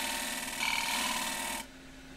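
A steady, raspy scraping of a tool cutting a spinning claret ash vase on a wood lathe, louder in the middle, over a constant machine hum, then cutting off abruptly.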